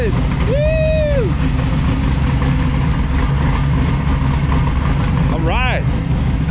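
Pro Touring Camaro engine running steadily at a loud, close idle after being brought to life, with a voice calling out over it partway through.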